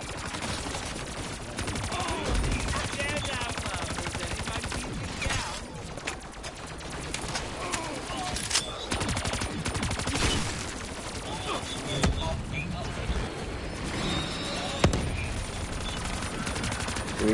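Rapid gunfire in Black Ops 3 Zombies, a four-player co-op session with Ray Guns, dense overlapping bursts of shots and weapon blasts continuing nonstop and loud, with players talking at times.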